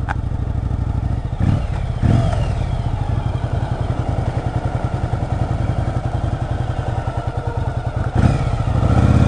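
A 1997 Yamaha Virago motorcycle rides through town at night, its engine a steady, loud rhythmic throb with a couple of brief clunks and bumps along the way.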